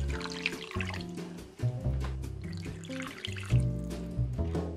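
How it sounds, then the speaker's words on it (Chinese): Clean water poured into a clay pot for braising beef, a close, continuous gurgling and trickling stream whose pitch shifts as the pot fills, heard alone. "放清水先"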